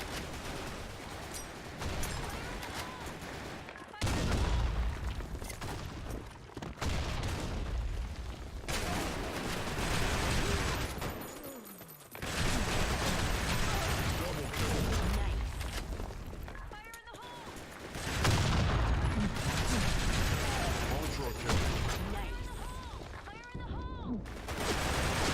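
Rapid bursts of gunfire rattle through a Blackshot shooter match, repeated automatic volleys separated by short pauses across a long stretch, loud and close, with a person talking over parts of it.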